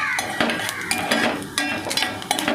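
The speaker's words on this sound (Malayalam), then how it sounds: "എന്നിട്ട് വേഗം തന്നെ അത് ഇളക്കി കൊടുക്കുക." Spices including fennel seeds, urad dal, roasted gram and chana dal are stirred quickly in a small pan, giving repeated sharp scraping clinks of a spoon against the pan over a low sizzle, close and clear.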